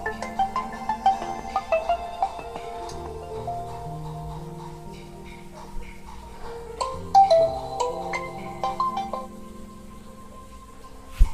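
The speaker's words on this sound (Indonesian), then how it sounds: "Sorry guys, ada telepon." A phone ringtone for an incoming call plays a soft, repeating electronic melody of stepped tones, moderately quiet and alone, with no talking over it.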